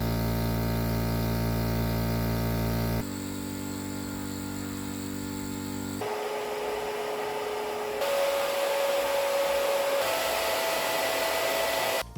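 Electric nasal aspirators, including a Nosiboo, running with a loud, steady vacuum-like whirring hum that changes pitch and tone several times as different units are switched on, measured from 50 cm away.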